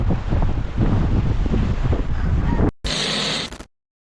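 Strong wind at sea buffets the microphone in a loud, roaring rush, then cuts briefly and returns before stopping abruptly.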